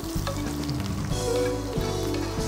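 Sliced onion strips sizzle steadily in a hot pan, a close, continuous frying hiss with faint stirring clatter and no talking.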